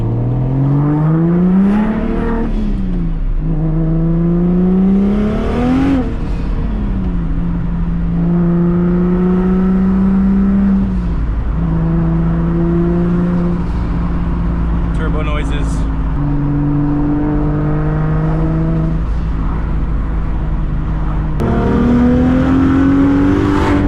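A big-turbo BMW engine revs hard during burnouts, its pitch repeatedly climbing and falling in long sweeps and holding near steady at high revs between, loud and close with a voice talking over it at times.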